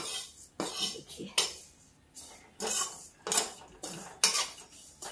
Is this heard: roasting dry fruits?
yes